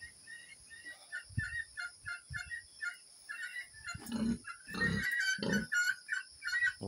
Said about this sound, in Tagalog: Baboy nila.